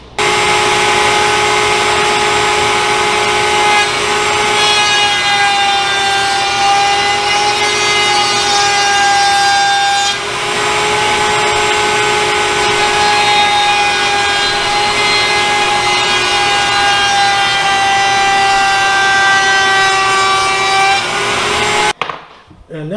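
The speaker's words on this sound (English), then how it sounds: "I'm just going to narrow them down on the table saw" Table saw ripping wooden boards narrower for a small restored stool, a loud sustained whine with shifting harmonic tones over about twenty seconds, cutting off abruptly at the end.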